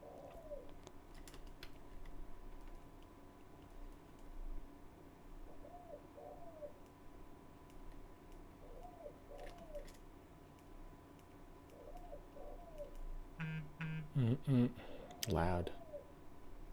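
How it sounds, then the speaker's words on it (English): Pigeons or doves coo softly outdoors, a few short two-note calls repeating at intervals, faint beneath keyboard tapping and brief bursts of talk. "Bird be singing, man."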